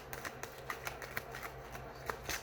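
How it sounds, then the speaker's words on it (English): A tarot card deck is shuffled by hand, giving a quiet, close run of soft rapid riffling flutters and taps with no talk. "One more shuffle."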